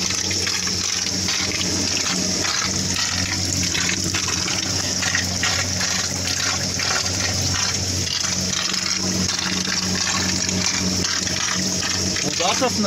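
A pump draws water from a roughly 10-metre-deep village well in Sarnigor, making a continuous gushing, churning wash with a steady mechanical hum underneath, loud and unbroken, while a person talks over it.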